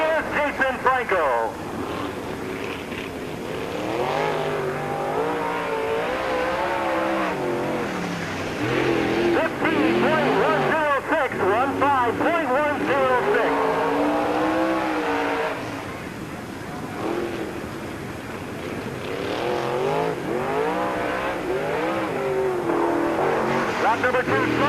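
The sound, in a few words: race car qualifying laps at Peoria Speedway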